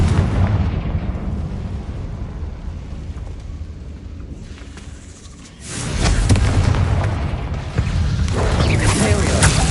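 Fiery Confringo spell blasts in the Hogwarts Legacy video game: loud, dense explosive rumbles with crackling debris, a dip in the middle and then renewed booming bursts, with game effects and voices mixed in.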